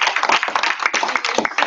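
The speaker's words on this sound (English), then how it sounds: "give her a round of applause" A small audience at a team training session claps for the presenter, brisk close-up hand claps from a handful of people in a room, loud and uneven throughout.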